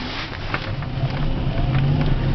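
A car with a newly rebuilt motor pulls away in first gear on a snowy street, its engine droning and rising in pitch as it accelerates, heard close and loud without talk.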